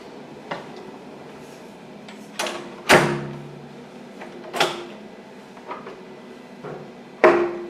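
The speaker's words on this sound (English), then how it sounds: "let me lock the door" A hotel guest-room door at the El Dorado Royale resort in Mexico is locked with a series of close mechanical clicks and clunks, one heavy thunk standing out among the lighter latch sounds.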